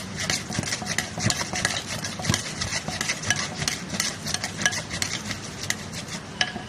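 Ingredients for Korat-style papaya salad being mixed and pounded in a bowl, a steady run of close, rhythmic scraping and knocking that carries on without a break, with no talk.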